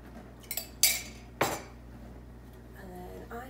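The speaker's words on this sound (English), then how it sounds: "I don't like this film, so I like to scrape it off." Utensil scraping the film off goat's milk yogurt in an Instant Pot, with a few sharp metallic clinks and scrapes against the pot's metal insert, close and brief, between quieter stretches.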